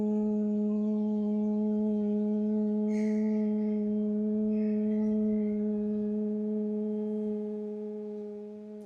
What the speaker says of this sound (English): Close the ears and hum.